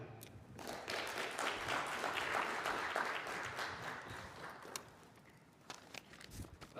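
An audience at a Pan African conference gives a round of applause for a speaker, sustained clapping that swells and then thins out toward the end, heard from a little distance.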